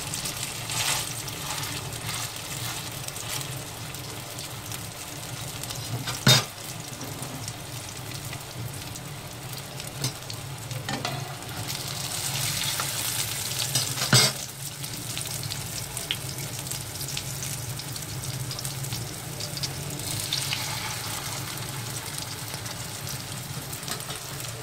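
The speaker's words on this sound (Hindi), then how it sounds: "शैलो फ्राई करना है।" Chicken chapli kababs shallow frying in oil, a continuous crackling sizzle with a few sharp pops, steady and close without talk.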